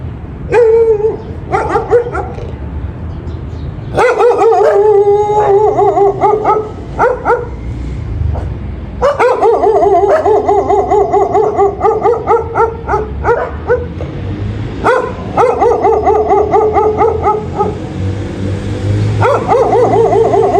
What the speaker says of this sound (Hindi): हमारे घर की ना बैक साइड पे ये घर है और इनके ये डॉगीज़ हैं